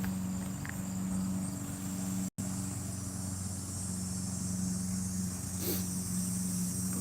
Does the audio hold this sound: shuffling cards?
no